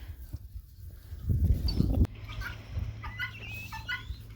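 A few soft clucks from chickens close by, alongside a brief rustling scuffle, in a quiet outdoor setting.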